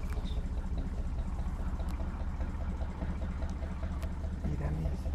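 Narrowboat engine idling at a canal boat lift at Norton, Stoke-on-Trent, a steady low throbbing chug heard from nearby beneath children's and adults' chatter, with faint outdoor ambience.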